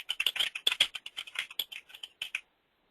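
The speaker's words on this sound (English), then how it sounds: "let me type" Rapid, irregular key taps on a computer keyboard, close and fairly crisp, running in quick bursts for about two and a half seconds before stopping.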